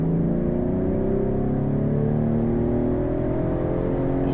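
A Ford Explorer ST engine revving hard under full throttle in 4th gear, a loud, steady droning roar climbing smoothly in pitch toward the limiter.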